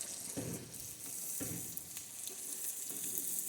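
Ingredients for bograch stew fry in a pan with a steady soft sizzle, and stirring strokes come in regular surges about every second, close but quiet.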